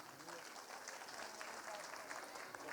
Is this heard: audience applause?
yes